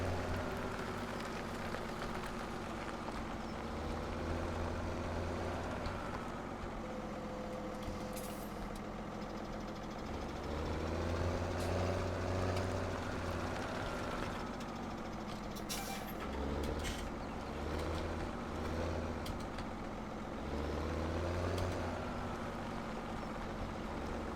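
In Farming Simulator 17, a tractor engine drones steadily as it drives, its low rumble swelling and easing in pitch with load over about twenty seconds, with occasional faint clanks and no talking.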